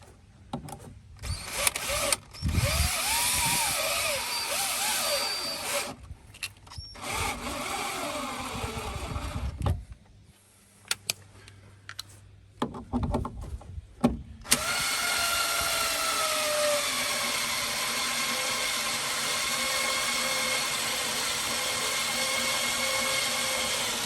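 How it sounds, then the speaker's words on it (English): A cordless drill drives extra screws into a wooden deck post, giving several short bursts of whirring with pauses between them, then a long steady run at the end, close by and alone. "we'll put a couple extra screws in"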